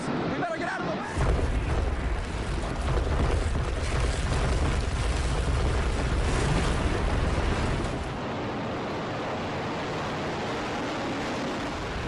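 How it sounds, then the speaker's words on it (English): A World Trade Center tower collapses in a deep, roaring rumble of explosion and falling debris that swamps everything for several seconds, then fades to a broad, steady wash of noise. "A huge explosion now raining debris on all of us."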